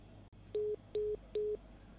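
Three evenly spaced telephone dial tones on a radio show call, each about a fifth of a second long, with a quiet hiss underneath and no voices.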